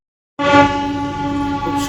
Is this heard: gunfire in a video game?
no